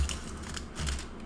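Scissors snip through meal kit packaging in a kitchen, a few quick crisp cutting strokes close up with faint crinkling, all within about a second.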